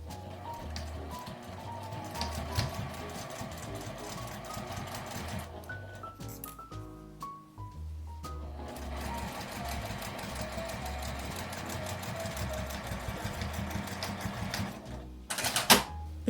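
A domestic sewing machine stitching along a folded fabric edge while making a zippered chopstick case, a fast steady mechanical whir with brief pauses and a few higher clicks, moderately close.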